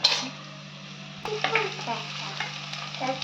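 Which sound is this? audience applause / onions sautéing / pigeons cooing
onions sautéing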